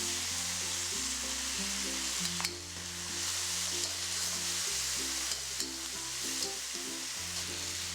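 Beef slices and snow peas stir-fry in a pan, giving a soft steady sizzle with a few scrapes of tossing, while sustained musical tones play underneath and no one speaks.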